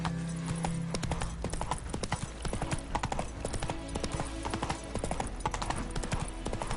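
Roach, Geralt's horse in The Witcher, gallops hard with rapid, even hoofbeats pounding close and loud across the ground, a short whinny-like tone near the start.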